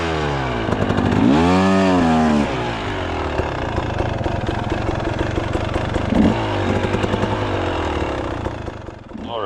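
A dirt bike engine revs hard on slippery ground, rising and falling in repeated throttle bursts, loud and close, with the wheel failing to grip.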